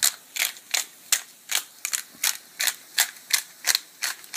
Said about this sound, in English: Now I've got some pepper, cracked or black pepper. I'm going to do a few grinds,